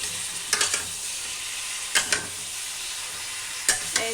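Beef fat slowly melting in a pan on a stove, giving a soft steady sizzle broken by a few brief clusters of utensil scrapes.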